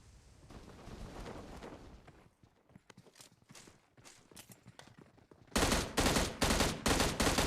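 Gunfight in the mobile battle-royale game PUBG Mobile: scattered rapid gunshots at first, then loud sustained automatic bursts near the end, with no talk.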